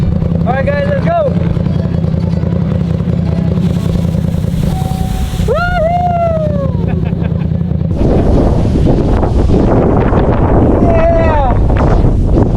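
Wind on an open hill buffets the microphone in loud, rough gusts. Voices call out briefly over it with rising and falling tones.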